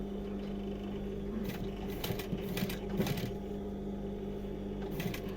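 A sewing machine stitches the hem of denim jeans in short bursts of rapid mechanical whirring separated by pauses, over a steady motor hum, with no talking.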